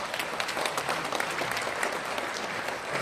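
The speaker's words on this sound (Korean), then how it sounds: "나오실 때 우리 큰 박수로 환영하겠습니다" An audience claps in a steady, dense wave of applause welcoming a speaker to the stage at a church sermon, loud and sustained throughout with no talk over it.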